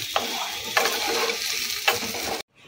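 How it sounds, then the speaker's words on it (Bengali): Sabudana khichdi with a little ghee being stirred in a pan: a gentle close sizzle with three distinct scraping strokes of the spoon, then sudden silence. "ঘিটা দিয়ে নেড়ে আমি ঢেকে দেবো"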